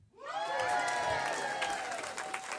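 A crowd applauds and cheers at a live comedy show, a dense burst of clapping and whoops that swells quickly and holds steady.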